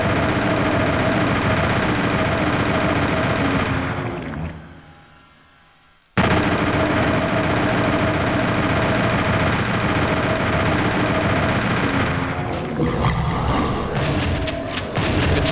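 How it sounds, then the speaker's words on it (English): Chain gun firing in PlayStation Doom, a loud dense stream of rapid gunfire and thuds that cuts out briefly near the middle and then resumes just as heavily. "back to the chain gun with you."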